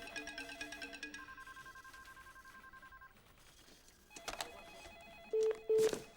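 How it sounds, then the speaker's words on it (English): A telephone rings several times in repeating electronic bursts, then after a pause comes a sharper ring with short tones, all fairly faint in a quiet room. "Pick up the phone."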